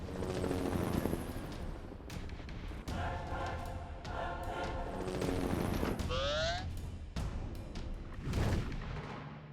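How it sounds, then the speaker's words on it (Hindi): Cartoon robot toys firing laser beams: a busy action scene with sharp zaps and blasts, a rising sweep, and bursts of rumbling effects over constant background noise, loud and chaotic. "वो लेजर बीम से फायर कर रहे हैं।"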